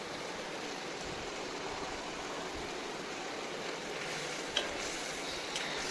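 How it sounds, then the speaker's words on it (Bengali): Spice paste with salt and turmeric stirred and fried in a pan for an egg curry, giving a steady, even sizzling hiss throughout with a faint scrape near the end. "মশলাটা দেওয়ার পর বেশ কিছুক্ষণ ধরে নেড়ে চেড়ে একটু নুন আর হলুদ দিয়ে ভালো করে কিন্তু মশলাটাকে কষিয়ে"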